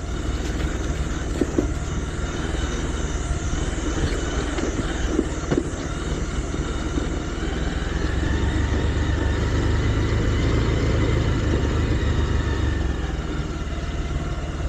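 A motorcycle engine drones steadily while the bike rides a muddy, dangerous road, its low rumble swelling louder toward the end with no talking.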